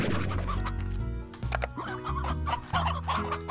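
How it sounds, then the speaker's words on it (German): Chickens cluck in the Slime Rancher video game, with repeated short, clear, close clucks in an uneven rhythm and no talk. "Aber wir haben Hühnchen."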